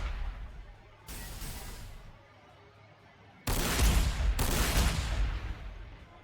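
Astra Militarum artillery pieces fire in the strategy game Warhammer 40,000: Sanctus Reach, heard as heavy rumbling blasts: one burst, then a louder double barrage that rolls on, with no talking over it.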